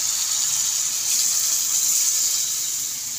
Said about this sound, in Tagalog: At lagyan natin ng tubig.